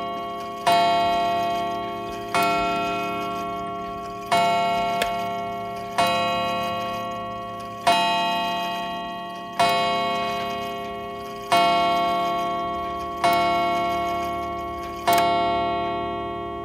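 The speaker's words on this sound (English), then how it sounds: "Here I'm testing the mechanism for the chime." A Sessions mantel clock movement runs on its own during a chime mechanism test, each stroke ringing out clearly about every two seconds and fading into a sustained metallic decay, steady and close.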